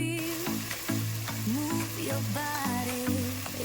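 Masala for mutton biryani fries in oil in a pan, giving a steady, close sizzle with stirring scrapes throughout, and no voices over it.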